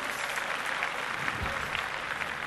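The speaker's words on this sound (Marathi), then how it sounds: "जोरदार टाळ्या वाजवूया त्यांच्यासाठी" A crowd claps steadily in sustained applause, dense and even throughout, with no voices standing out.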